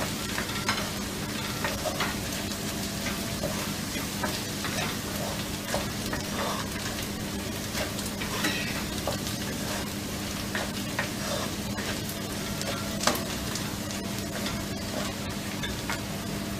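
Red chili powder and turmeric stirred into hot oil in a pan, a steady loud sizzle with scraping stir strokes throughout, one sharper clack near the end, no voices.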